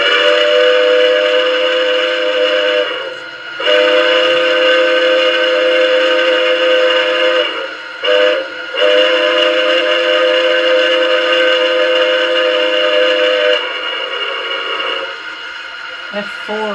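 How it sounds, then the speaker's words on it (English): A Zimo-equipped LGB Sumpter Valley model locomotive blows a highway crossing whistle pattern: two long blasts, a short one and a final long blast. The tones are loud and close over a steady mechanical hum, and a softer tail follows. "F3 is the highway crossing whistle."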